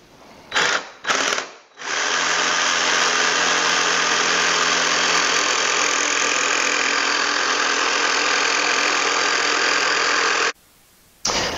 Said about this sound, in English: So this way I can cut it with the saw